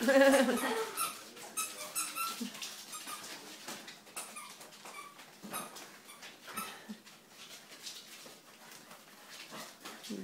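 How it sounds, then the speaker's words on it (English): Seven-week-old puppies playing chase with a ball, heard as busy high squeaks, yips and small whimpers over scuffling, fairly close and continuous, with occasional human voice mixed in. "The puppies at 7 weeks playing chase with the ball."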